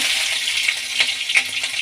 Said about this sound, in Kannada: ಈಗ ಹಸಿಮೆಣ್ಸಿನ್ಕಾಯಿ ಎಣ್ಣೆಯಲ್ಲಿ ಫ್ರೈ ಮಾಡ್ಕೊಳ್ಳೋಣ